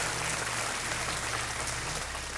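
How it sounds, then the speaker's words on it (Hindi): Studio audience at a televised quiz show applauding to welcome an expert advisor, a continuous, fairly quiet wash of clapping with a low steady hum underneath. "और तालियों के साथ अजीत जी का स्वागत किया जाए।"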